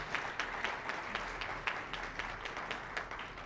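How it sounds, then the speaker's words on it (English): Audience applauding election candidates at the close of an evening event, a dense, even patter of many hands clapping at moderate distance, steady for the whole stretch with no voices over it. "Let's give them a really big round of applause."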